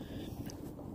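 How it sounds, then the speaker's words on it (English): Wind buffets an outdoor microphone, giving a steady, loud low rumble with no other sounds over it. "Sorry about the wind. It is quite windy,"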